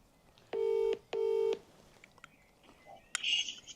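Phone keypad tones as a number is dialed to call someone back, two long steady beeps close together, followed by a faint rustle and a brief higher chirp.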